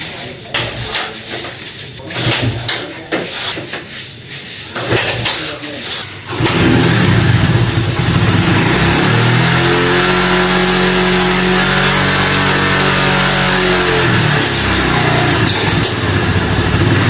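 A motorcycle that had stood in water for a long time is kicked over a few times, then its engine catches and runs loud and steady with rising and falling revs; a voice speaks over the first few seconds.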